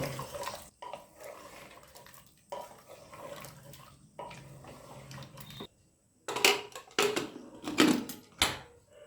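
Water poured into a pressure cooker and stirred with salt, with bursts of splashing and pouring alongside clinks and scrapes of a utensil against the metal pot, broken by short pauses.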